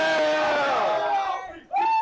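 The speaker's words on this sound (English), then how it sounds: "And the crowd goes wild." A crowd at a poker final table in Austin yells and whoops in a loud, drawn-out roar that fades, then a fresh shout bursts up again near the end.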